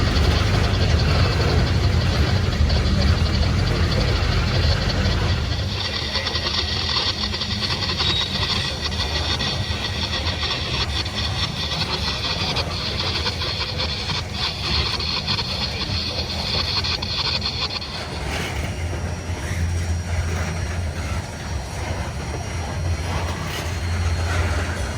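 Freight train G179-23 rolling past trackside near downtown Atlanta toward Halsey Yard, a steady, loud rumble of wheels and cars with metallic clanks, squeals and hiss throughout, and no talking.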